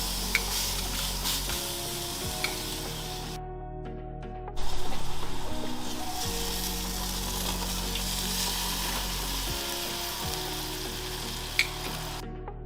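A rib eye steak, reverse seared, sizzles on a Weber Q grill, a continuous loud crackling fry with a low steady hum and a few brief clicks, with no talking.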